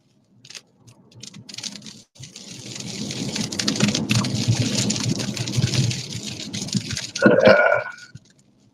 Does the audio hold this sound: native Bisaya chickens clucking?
no